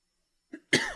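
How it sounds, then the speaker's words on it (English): A single short cough, preceded by a faint brief throat sound, close and fairly quiet. "I keep on coughing."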